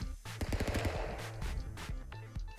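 A gun fires in Stick Fight: The Game as a rapid string of sharp shots, loud and close, broken by brief pauses.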